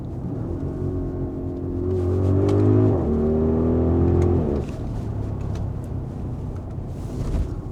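An Audi RSQ8 performance SUV engine revs up and accelerates hard with a rising roar, peaks, then drops back to a steady rumble inside the cabin.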